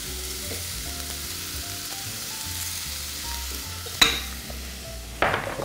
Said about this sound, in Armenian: Կարմիր քաղցր պղպեղին և սոխրացին ավելացնում ենք բրինձը։